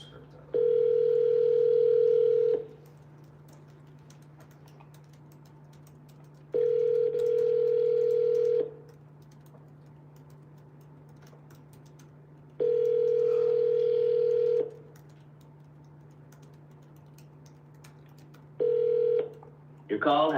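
Telephone ringing on the line while dialing a call to a for-sale-by-owner listing: four evenly spaced two-second ring bursts separated by quiet gaps, with a faint steady hum underneath and no talking.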